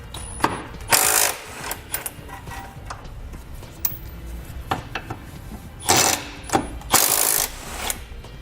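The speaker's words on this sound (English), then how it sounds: "We have an 18mm socket and we can pull those out." A socket wrench and power tools work on the frame bolts of a 2018 Ford Explorer during a trailer hitch install, with bursts of whirring and buzzing separated by scattered clicks, ratcheting and metallic taps at close range.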